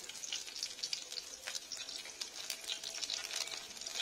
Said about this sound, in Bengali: তেলটা গরম হলে এর মধ্যে কিছু রসুন কুচি আর আদা কুচি দিয়ে দিচ্ছি